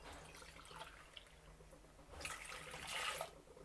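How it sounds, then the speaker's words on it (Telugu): Water pours into a cooking pot to boil for potato mash, a soft splashing stream swelling in the second half before stopping, heard alone at close range. "ఇప్పుడు మనం ఇందులో నీళ్లు పోసుకోవాలి"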